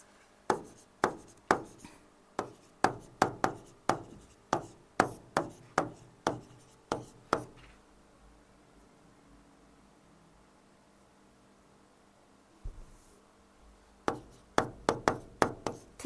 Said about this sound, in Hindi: तो ये बात और लिख लेते हैं हम